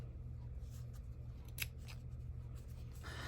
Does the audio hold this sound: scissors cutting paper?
yes